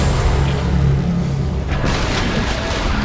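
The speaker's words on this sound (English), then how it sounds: "Radiant's middle tower has fallen." A tower collapsing in the Dota 2 video game lands as a loud, deep boom with rumbling low-end impacts that hold steady across the moment, with a brighter burst of debris-like crackle arriving partway through.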